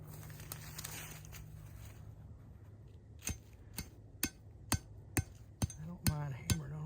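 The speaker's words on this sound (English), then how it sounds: "I don't mind hammering on them a little bit." Steel traps being hammered down into dirt at an outdoor trapping set: about eight sharp, evenly spaced metallic blows ring out close by after a few seconds of quieter handling and low rumble.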